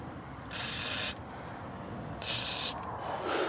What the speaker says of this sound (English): soak it down with some WD-40